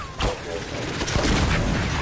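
Bursts of rapid gunfire crackle in the Gears 5 video game soundscape, loud sharp shots cutting through background noise and a voice.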